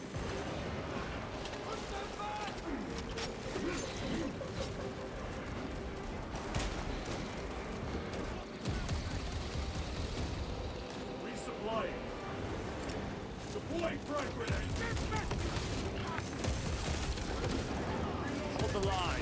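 Continuous dense gunfire and combat noise in Warhammer 40k: Space Marine II, a steady barrage of overlapping shots and impacts with voices talking throughout.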